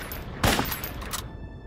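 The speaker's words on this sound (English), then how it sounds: "Try shooting at the target on your right." A short burst of rapid gunfire in a first-person shooter video game, aimed at a target on a practice range, loud and close, rising quickly and trailing off within about a second.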